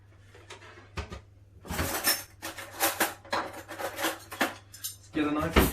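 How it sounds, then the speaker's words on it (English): A knife and fork picked up beside a tray of slow-cooked pork ribs, a close series of metallic clinks and rattles after a couple of quiet taps. "get a knife and fork"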